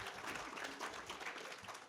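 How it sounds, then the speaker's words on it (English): A lecture audience applauds, a dense and fairly quiet patter of clapping that holds steady throughout without voices on top. "give yourselves a round of applause"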